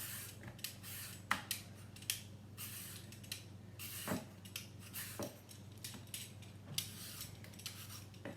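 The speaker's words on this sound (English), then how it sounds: "So I'm just going to peel me a cucumber." A cucumber being peeled, close-up repeated scraping strokes of a peeler with small clicks and knocks at an irregular rhythm, fairly quiet over a low steady hum, no speech.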